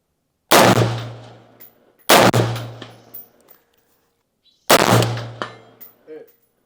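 Three loud AR-15 rifle shots fired at a steel target, each a sharp crack with a ringing clang at impact, spaced a couple of seconds apart outdoors.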